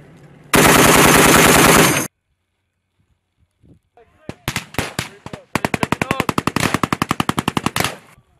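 Machine gun fire at Marine training: a sustained, loud burst of rapid automatic shots, then a pause, then several separate sharp shots and a long, rhythmic string of rounds near the microphone.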